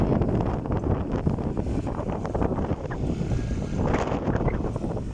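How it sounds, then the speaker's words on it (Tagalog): Strong wind buffets the microphone in continuous low rumbling gusts, with a faint wash of open water underneath. "Hangin badya diri, bayo diri ang dagat tuman."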